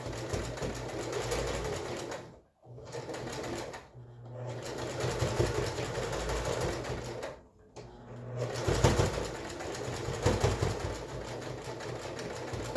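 Sewing machine stitching pleats on a cloth face mask with a freshly changed needle, a steady close mechanical whirr that pauses briefly a few times, with a voice talking quietly over it.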